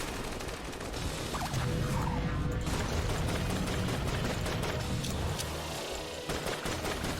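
Rapid, dense gunfire and crashing blasts from a black hole gun in the video game Enter the Gungeon, a loud continuous barrage with explosive bursts and no talking.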